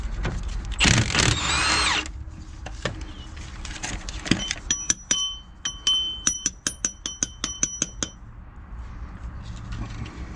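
Pneumatic impact wrench rattling in short repeated bursts while working on a Kenworth air brake can in a truck shop, with sharp metallic clinks and a loud rapid hammering run in the middle, close and unaccompanied by talk.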